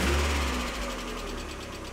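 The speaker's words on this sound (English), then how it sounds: "We realized that the lifter tick that had been creeping up on the Miata got really bad." Mazda Miata engine idling nearby with a lifter tick, a low steady rumble with faint rapid ticking, brief and alone.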